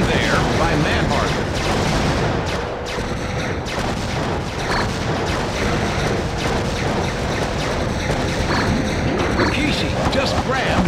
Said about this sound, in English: Kane has the laser-guided rockets.